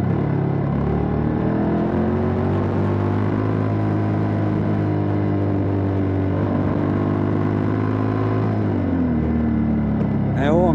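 A Honda X-ADV 750 scooter rides with a loud, steady engine drone that holds pitch, then drops as the automatic transmission shifts up near the end.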